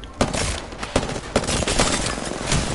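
Video game gunfire comes as a handful of sharp shots in quick succession, fairly loud and close, with no voices over them.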